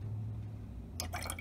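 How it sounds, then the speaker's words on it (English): Food coloring poured into a container of bleach water makes a short liquid splash and drip, faint over a steady low hum, with no talk. "Now pour the food coloring in."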